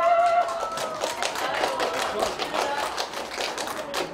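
An audience applauds performers at an outdoor mat-seating busking concert, a continuous patter of many hands clapping at moderate distance with faint voices.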